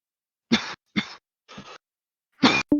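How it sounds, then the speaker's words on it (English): Someone coughing into a call microphone during an online screenshare session, four short dry coughs in a row with gaps between them, then a quick double cough, close and fairly loud against silence. "somebody's coughing"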